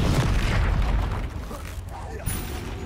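A Confringo fire spell explodes in the Hogwarts Legacy video game with a loud, booming blast right at the start, then a rumbling tail that fades over a couple of seconds.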